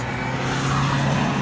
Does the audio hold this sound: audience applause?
no